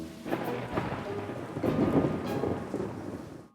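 A thunderstorm sound effect: deep rolling thunder rumbles over steady rain pattering on a surface, loud and close, then cutting off abruptly.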